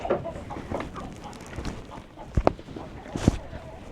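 Chickens cluck near the stairs of a rural house in Laos, short scattered calls and a few sharp peaks rising over steady background talk.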